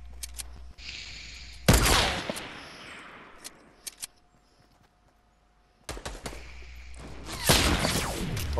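Sniper rifle fire in the Fortnite video game, with two loud sharp bursts of gunfire separated by quieter stretches, amid game effects and no talk.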